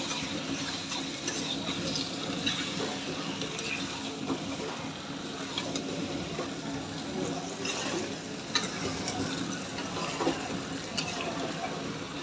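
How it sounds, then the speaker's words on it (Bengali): Chicken curry meat stirred and fried slowly in a pan for a home-cooked chicken-and-rice dinner, giving a steady, even wash of sizzle and scraping that runs throughout without pause, moderately loud and close. "ভালো করে নেড়ে চেড়ে কষিয়ে নেব আস্তে আস্তে"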